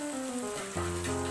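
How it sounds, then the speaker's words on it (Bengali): Soybeans tipped into a pan of cooked-down spice paste for soybean tikka, giving a steady, close sizzle whose texture shifts and thickens as they land partway through; no voices. "এরপর এটিতে আমি সয়াবিনগুলো ঢেলে দেব"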